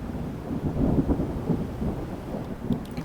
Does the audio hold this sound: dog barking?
no